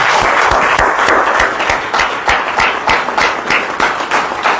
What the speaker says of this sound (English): Please could we give them a round of applause.